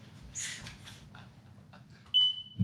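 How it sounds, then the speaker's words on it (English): A smoke alarm gives a single short, high low-battery chirp near the end, preceded by muffled rustling and handling noises in a quiet room. "it sounded like the battery smoke alarm"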